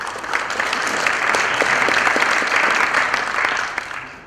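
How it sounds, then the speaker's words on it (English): An audience at a city-scale planning conference session applauding, a dense, steady wash of clapping from a room full of people that swells and fades over several seconds. "give an applause for thank Laura"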